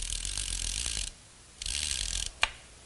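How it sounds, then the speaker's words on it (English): Ratchet-type low one-way clutch from a GM 6T70/Ford 6F50 transmission being turned by hand on the bench, giving two bursts of fast, close ratcheting clicks with a pause between and a sharp metallic clack at the end. "So as you could hear, this is a ratchet type."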